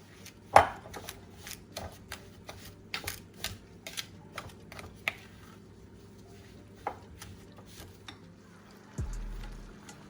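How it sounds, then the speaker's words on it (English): Butter and sugar being creamed by hand with a utensil in a bowl for sticky toffee pudding, heard as a run of close, irregular scraping taps and knocks, with a low hum and a deeper rumble near the end. "I'm just doing this by hand since it's such a small amount, but you're basically just wanting to make the butter and the sugar into a smooth, fluffy paste"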